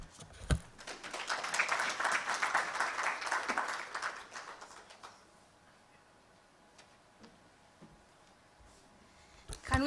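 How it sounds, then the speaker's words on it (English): Audience at a product launch in Uganda clapping for a few seconds in a moderate, indoor burst that fades into quiet room tone, with a few scattered claps afterward. "Can we clap for her one more time?"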